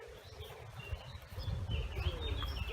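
Birds sing outdoors, with several high, thin chirps and short trilling phrases scattered over a low, steady background rumble.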